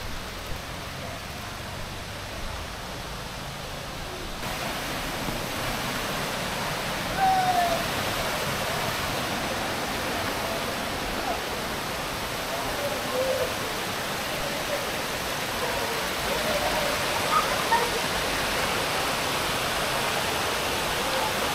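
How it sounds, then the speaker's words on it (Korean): Ravana Falls in Ella, Sri Lanka, pours as a steady, dense roar of falling water, close and unbroken, with only faint hints of activity beneath it. "폭포의 규모가 상당하군요."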